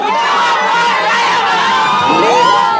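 A large crowd cheers, whoops and shouts loudly and continuously at a team rally, voices overlapping into a dense roar that swells near the end.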